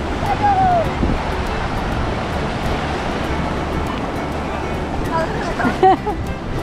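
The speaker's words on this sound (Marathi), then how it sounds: "आणि हा लाटा येत आहेत" Ocean waves at Velas beach on the Konkan coast, a steady rushing surf with wind, while people talk nearby.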